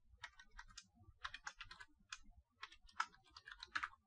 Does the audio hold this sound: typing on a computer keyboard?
yes